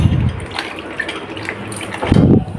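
Tap water splashes over cut jackfruit pieces as they are rinsed in a pan, a loud, close, continuous running-water wash with stronger gushes at the start and the end.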